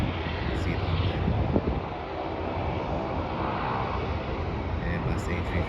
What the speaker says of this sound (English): Looks like there's a plane to Brisbane, Jetstar plane, Airbus A320. That's just taken off.